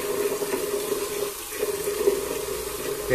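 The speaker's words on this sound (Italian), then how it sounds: "aggiungiamo ancora un po' d'acqua" Water trickles steadily into a shaving soap lather being worked with a Simpson Chubby 3 Best Badger brush on WOMO Dandy hard soap, a continuous soft running-water wash close by with no talking.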